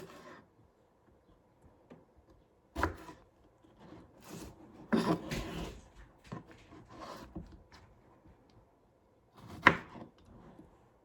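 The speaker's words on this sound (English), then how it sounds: "the first thing you want to do is just go ahead and cut the stems off" A knife cuts the stems off washed strawberries on a board in a kitchen while fruit salsa is prepared, with scattered close, soft chopping taps and scrapes set apart by quiet pauses.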